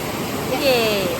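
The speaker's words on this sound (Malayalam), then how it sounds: "നമ്മളിവിടെ ഒരു പുഴയുണ്ട്, ആ പുഴയാണ് കാണാൻ വേണ്ടി പോകുന്നത്." Steady rushing of a river flowing at Vanaparvam, Kozhikode, a constant broadband wash, with a voice speaking briefly over it.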